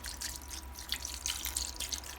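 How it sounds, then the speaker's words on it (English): Chicken broth pours into a cooking pot in a home kitchen for a blue crab recipe, a soft, continuous splashing trickle with bubbly liquid spatter, fairly quiet and close, with no talking. "Add the chicken broth inside."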